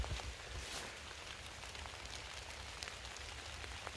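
Steady rain falls on a surface outdoors, a faint, even hiss with scattered soft drop taps and no voices.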